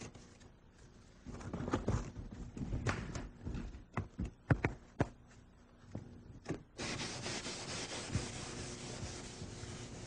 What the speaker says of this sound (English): Now what I'm doing here is just finishing this up with a little bit of 400 grit paper